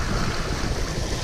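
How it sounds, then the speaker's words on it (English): A spring brook in the Newfoundland bush flows gently on a cold spring night, a steady broadband wash of running water close by, continuous and even, with no voices. "Spring brook gently flowing down through here,"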